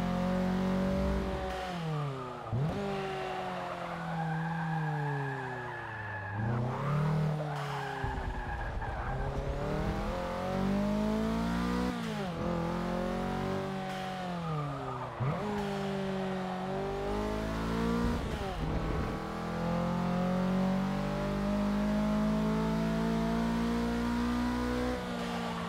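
Race car lapping a track in the Forza Motorsport 6 racing game, its engine loud and continuous, revving up and dropping through repeated gear shifts with tire squeal through corners, with no talking.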